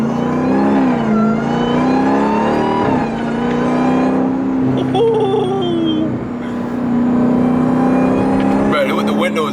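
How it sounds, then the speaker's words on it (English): A car engine drones and revs steadily from inside the cabin, with a high supercharger whine rising over the throaty rumble; voices talk over it. "with the windows up, you hear the supercharger"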